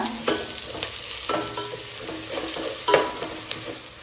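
Green chilies and sliced tomato sautéing in a pan for white biryani, with a spoon scraping through at uneven intervals over a soft, continuous sizzle, close up and with no talking.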